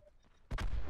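One sharp gunshot from Call of Duty: Black Ops 4 cracks out after a quiet stretch and fades into a booming tail that lingers to the end.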